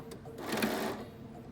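A sewing machine piecing quilt blocks runs in a short, rapid mechanical burst of stitching, fairly faint and close, with quieter handling noise before and after.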